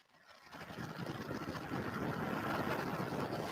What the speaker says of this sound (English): liftoff of the first United Launch Alliance Vulcan rocket, launching a new era in spaceflight to the moon and beyond